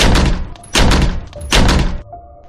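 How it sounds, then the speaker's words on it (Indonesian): Several loud, close knocks land on a window in clustered bursts, three heavy groups of thuds spaced through a couple of seconds, with no voices. "Tapi ketika aku mau rebahan untuk tidur, ada yang mengetuk jendelaku."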